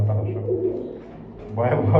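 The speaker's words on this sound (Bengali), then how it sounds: "দামাসিন কবুতর দর্শক যারা দেখতে পারেন এই যে দেখেন প্রচুর ডাকে" Damascene pigeons coo in low, repeated throaty calls close by, with someone talking over them partway through.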